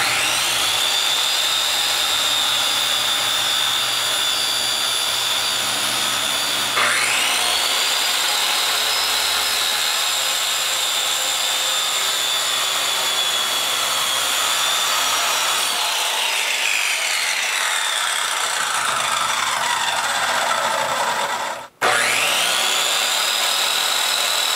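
A power saw slices through a sheet of plywood with a high, strained whine that dips and rises as the blade bites, runs loud and close for a long pass, then briefly stops and spins up again.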